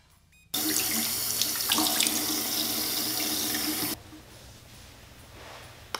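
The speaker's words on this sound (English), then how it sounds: "Every morning, I start my day with splashing cold water on my face." Cold tap water gushes loudly into a bathroom sink for about three seconds while someone splashes their face, then the flow eases to a quieter trickle, with no talking.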